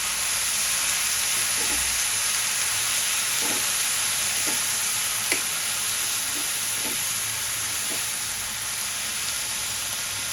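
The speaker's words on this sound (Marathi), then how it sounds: "आणि छान परतून घेऊया." Chopped radish sautés in a pan with a loud, steady sizzle and hiss, broken by a few soft utensil taps as it is stirred, with no voices.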